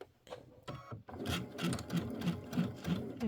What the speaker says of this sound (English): I like to turn and sew into the corner